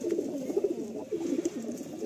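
Close, repeated throaty coos from Madrasi pigeons in their loft roll along in short rhythmic phrases, several birds calling at once.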